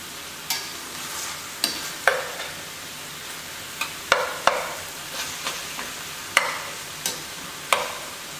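Ground Snake River Farms Wagyu brisket and onions sizzle and crackle in a pan, with intermittent scraping stir strokes every second or so over a steady close frying hiss.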